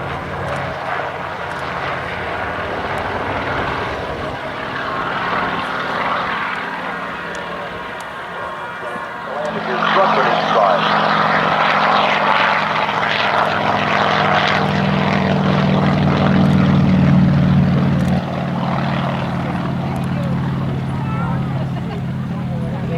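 Sikorsky UH-34 piston-engined helicopter making a high-speed pass at an airshow: a loud, sustained engine and rotor roar that swells midway and peaks before easing, with a commentator talking over it throughout.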